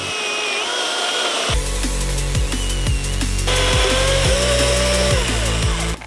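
A battery-powered STIHL chainsaw runs loudly and steadily, then bites into wood with a rough, grinding cutting sound that holds to the end.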